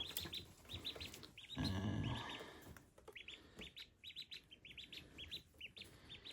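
Repeated high, thin peeping chirps of baby ducklings in quick bursts, fairly close, with a brief rustle and low thump partway through.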